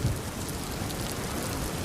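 Heavy rain pouring down during a fierce thunderstorm with strong wind, a dense, steady hiss of rainfall over a low rumble of thunder, loud and unbroken with no voices.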